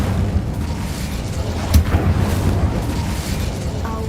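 A fire spell cast in the video game Hogwarts Legacy makes a loud, dense roar of flame with a sharper burst near the middle, running steadily throughout with no talking.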